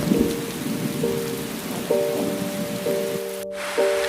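Steady rain hisses and patters continuously, with soft sustained musical tones layered over the downpour.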